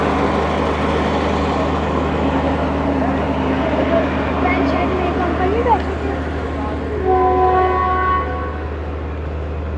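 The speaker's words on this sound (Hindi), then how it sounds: "गुजर खान रेलवे स्टेशन से डिपार्चर।" A train departs Gujar Khan railway station in Pakistan in rainy weather, a steady low rumble running throughout with a horn sounding in sustained tones near the end, with voices at times.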